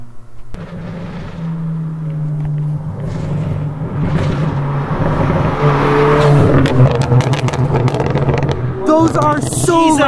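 A Mk7 VW Golf GTI engine drones and rises in loud revs close by, the pitch climbing steadily before a burst of sharper pops and crackles near the end, with voices and other noise around it.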